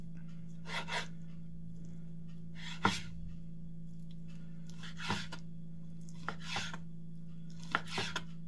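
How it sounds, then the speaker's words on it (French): Flank steak being sliced into thin strips with a knife on a board, several separate soft scraping cuts spaced a second or two apart over a low steady background hum. "Je commence par émincer ma bavette en fines"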